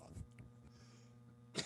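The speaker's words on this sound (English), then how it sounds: "cough. Sorry, choking on water." A person coughs while choking on water during a product features class, with a couple of throaty bursts early on, a quiet stretch, then a louder cough near the end, close and alone.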